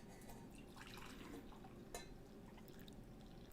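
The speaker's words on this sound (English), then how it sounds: "So this is how to pour water into a cup." Hot water poured into a cup: soft, fairly quiet trickling and dripping of liquid, with a brief sharp clink of a glass or cup partway through and no talk.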